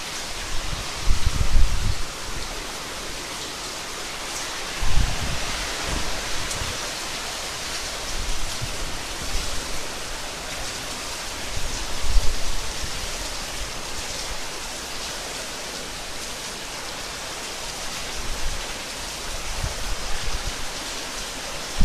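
Heavy rain and strong wind in Klidon, Ngaglik, Sleman, Yogyakarta, heard as a steady dense hiss that goes on throughout, with low gusty rumbles surging every few seconds.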